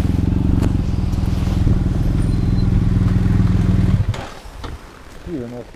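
Big touring motorcycles idling nearby with a loud, pulsing low engine throb that cuts off abruptly near the end, followed by quieter clatter and a voice.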